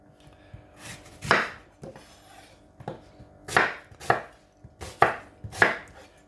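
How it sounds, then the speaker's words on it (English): A knife chops apple, ginger and mint on a board in a series of sharp, uneven thuds, close by with no talking. "I'm going to go ahead and chop these up, make it easier for the blender."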